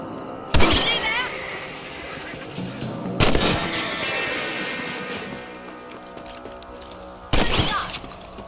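Gunshots in the Red Dead Redemption video game, with horse hooves nearby: three loud, sharp reports spaced a few seconds apart, each trailing into echoing decay over a busy outdoor background.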